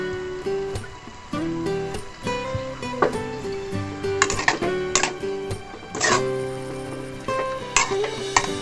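Pork dinuguan stirred in a cooking pot, with irregular scraping and clinking of a utensil against the metal over a steady background sizzle, close and moderately loud with no talking.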